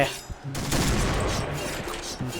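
Gunfire in the shooter game Point Blank, including shots from a Barrett sniper rifle: a dense, loud burst of rapid shots and blasts fills most of the moment, with a voice talking over it.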